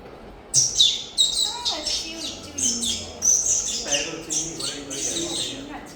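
A performer's voice imitates a sparrow, with a quick series of sharp, high chirps and tweets in bursts, loud and close, on a comedy stage.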